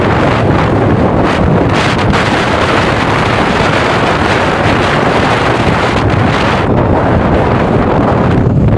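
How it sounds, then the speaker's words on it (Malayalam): Strong wind buffets the microphone in the open White Desert of the Rann of Kutch, a loud, continuous roaring rumble with gusty swells and no voices. "അത്യാവശ്യം എന്ന് പറഞ്ഞ പോലെ നല്ല രീതിയിൽ കാറ്റുണ്ട്."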